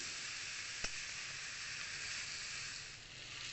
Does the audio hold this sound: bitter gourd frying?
yes